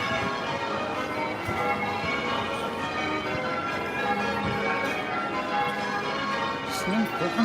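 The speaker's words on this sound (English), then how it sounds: "Some fucking bells going off" Church bells ring out at a distance over a steady outdoor wash of street noise during a city demonstration in Newcastle, faint and continuous rather than sharply struck.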